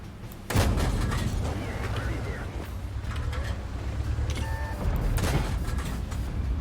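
Tank gun blasts from a World War II German Pz.Kpfw. I battle in a tank video game: a loud boom opens, followed by a continuous rumbling battle din and another heavy shot later.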